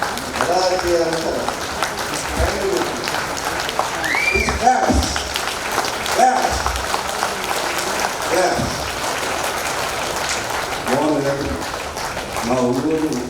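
A crowd at an Ugadi celebration in Ongole gives sustained applause, steady clapping continuing throughout while someone talks over it and voices rise intermittently.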